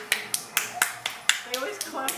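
Scattered claps from a few people greeting riders at the end of a VR Disney ride game, sharp separate snaps spaced at an uneven rhythm, fairly close, with voices talking faintly around them.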